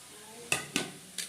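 A spoon scrapes and knocks against a pan while spiced cabbage, potato and peas are stirred, three sharp clinks spaced apart over a faint background hiss.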